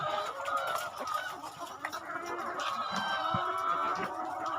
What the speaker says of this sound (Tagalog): ganun lang kasimple magpakain ng manok